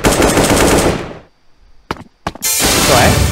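Rapid automatic gunfire from a gun in the mobile shooter Bullet Angel, loud, close bursts with a sudden stop, a near-silent gap broken by two sharp shots, then heavy firing again.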